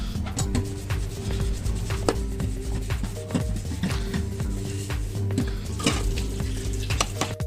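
Kashmiri chicken kebabs cook in onion paste gravy over a gas flame, a continuous close sizzle and bubbling with repeated clinks and scrapes of a utensil against the pan.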